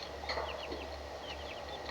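Chickens in a coop with a heat lamp in the early morning, a few soft clucks and short chirps at a moderate distance over a steady low hum.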